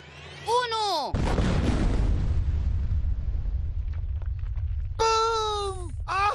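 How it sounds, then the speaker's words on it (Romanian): A cartoon explosive charge detonates at a stone quarry, producing a long, loud rumbling blast with a crackling, rolling roar. Animated voices are heard just before and just after it. "Mai am explozibil gata de detonat, așa că puneți-vă căștile!"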